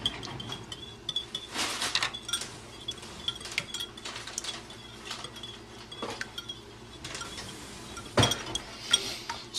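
Two eggs being whisked in a mixing bowl, with quick irregular clinks and scrapes of the utensil against the bowl coming in busy bursts, fairly close and with no talking.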